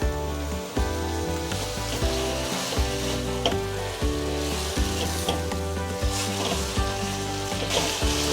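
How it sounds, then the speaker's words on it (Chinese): Spaghetti tossed in sauce with green beans and mushroom sizzles steadily in a hot pan, with repeated stirring scrapes and clatters over the continuous frying hiss. "快速翻炒，把意大利面炒到跟酱汁融合在一起"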